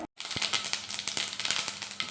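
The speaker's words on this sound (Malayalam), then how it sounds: "ഇതെങ്ങനെ നമ്മുടെ കടുക് പൊട്ടുന്നുണ്ട്" Mustard seeds popping in hot oil while a bitter gourd and mango pickle is prepared: rapid, sharp crackling pops over a bright sizzle, loud and close, with no voices.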